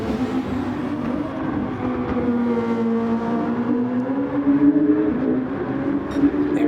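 Super Formula race cars at the Nurburgring GP circuit in a racing game, a steady, loud high-revving engine whine climbing through the gears, with no talk.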